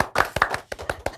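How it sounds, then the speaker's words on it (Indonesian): A studio audience applauds for guests on an Indonesian talk show, a short burst of uneven claps, fairly close and moderately loud. "beli tepuk tangan dulu untuk Tora Sudiro dan Mike Amalia."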